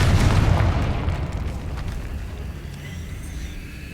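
A Confringo fire-explosion spell from the game Hogwarts Legacy bursts in one heavy, rumbling boom that opens loud and slowly fades into a low roar over several seconds.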